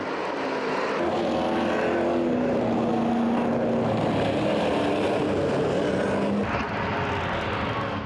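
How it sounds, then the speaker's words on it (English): NASCAR Euro race cars competing at the Nogaro circuit, with loud stock-car engines roaring continuously as the pack passes and braking into a hairpin, a dense, sustained drone that rises and falls, heard without talking. "Burden and Rousseau both lock up in the hairpin"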